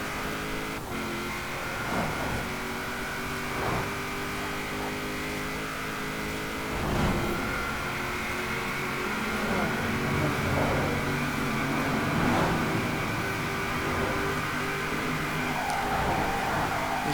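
A 2002 Mazda RX-7 Spirit R Type-A engine held near top speed in Forza Horizon 4, a steady high-pitched rotary drone with tire squeal while cornering, loud and continuous with no talking.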